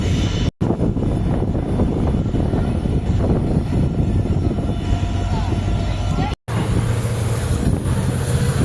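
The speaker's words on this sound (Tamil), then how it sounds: "ஹெவியாக காற்று அடிச்சிட்டு இருக்கு, ஸோ சவுண்டு கண்டிப்பாக கேட்க செய்யும்" Heavy wind blasting into the microphone beside a railway line where the Rameswaram Intercity Express runs between Thiruvarur and Trichy, a loud continuous roaring rumble broken by two brief dropouts.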